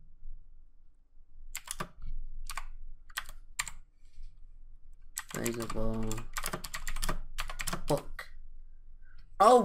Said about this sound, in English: I'm just typing and writing stuff.